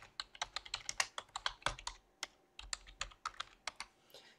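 Quick bursts of keystrokes on a computer keyboard renaming a desktop folder inside a virtual machine, close and crisp with short pauses between runs of clicks, no voices.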